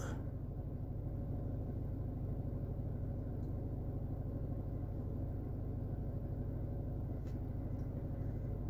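Citroën Jumpy 2.0 HDI diesel van engine running at raised revs, a steady low rumbling drone heard fairly close and even throughout, with no voices.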